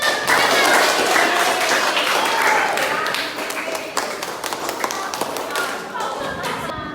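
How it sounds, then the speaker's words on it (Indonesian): Children in a classroom coding lesson clap their hands together in a dense, steady patter of small claps lasting several seconds, fairly close, with voices mixed in underneath. "Oke, tepuk tangan dulu."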